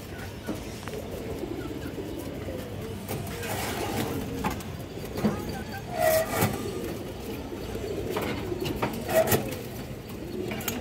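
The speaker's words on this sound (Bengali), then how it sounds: "পাল্লা করা কবুতর।" Leg-tagged racing pigeons coo repeatedly in soft, throaty bursts, several calls spread across the stretch over a faint low background rumble.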